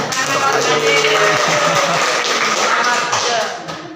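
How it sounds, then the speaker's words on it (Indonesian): A classroom of students claps for a classmate after a demonstration, giving a dense, steady patter of many hands that fades near the end, with voices mixed in. "Boleh tepuk tangan dong."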